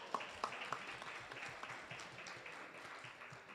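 An audience at a state legislative seminar in Arizona claps briefly, a scatter of separate hand claps blending into light applause, moderately distant and fairly quiet throughout.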